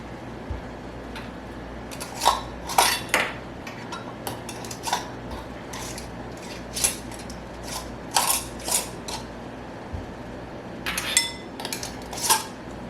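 Clinks and taps of a metal lid and ring being screwed finger-tight onto a glass jar of pineapple preserves, scattered in short bursts, close by, with a quiet background hum.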